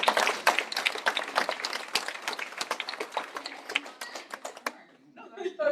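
Audience applause at a mayoral debate in Camas, moderate, fairly distant clapping lasting about four seconds before stopping abruptly, followed by a brief voice.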